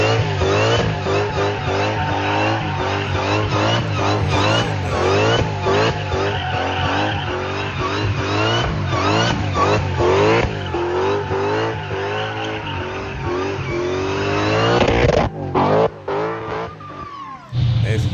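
A Nissan 350Z with a swapped Hellcat engine revs hard and drifts, a loud continuous engine roar with tire squeal close by, then cutting out with sputtering bursts near the end.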